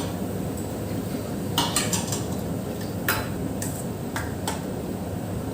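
Cooked moong dal is stirred into chow chow kootu in a pot, a few scattered metallic spoon taps and scrapes against the pot over a steady background hiss.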